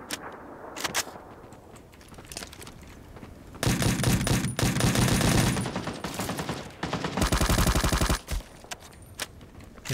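Gunfire in the video game Ring of Elysium: scattered single shots, then two long bursts of rapid automatic fire, with a few isolated shots between and after, and no talk.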